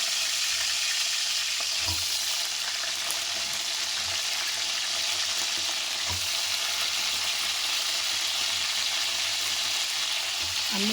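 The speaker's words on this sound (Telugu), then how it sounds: "చూడండి మనం వంకాయలు ఎలా ఫ్రై అవుతున్నాయో" Brinjal pieces sizzle steadily in hot oil, a continuous crackling hiss with occasional soft stirring knocks.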